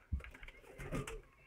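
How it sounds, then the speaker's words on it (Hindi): Pigeons kept in a breeding loft setup coo softly, with a low throaty burst near the start and another murmuring coo about a second later, close by and without talk. "इसमें सारे जो है बच्चे करने वाले कबूतर हैं"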